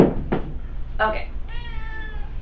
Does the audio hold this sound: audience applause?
no